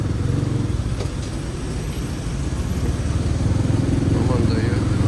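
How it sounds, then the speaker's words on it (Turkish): Street traffic in Thailand with tuk-tuks and motorcycles, a close, steady buzz of small engines revving and puttering, with a person talking over the noise. "Tuktukçular gidiyor. Bugün biraz trafik var galiba."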